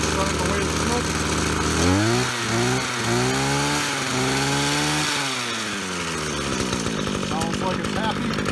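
A Husqvarna 335R brush cutter, just fitted with new fuel lines, starts up with rising and falling revs, then settles into a steady buzzing idle close to the microphone, with no talking over it.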